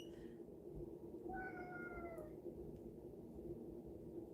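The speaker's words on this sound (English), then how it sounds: "Look at that cat just sitting on the bedpost." A cat meows once in a quiet indoor room, the call rising and falling over about a second, faint against low background hum with no other voices.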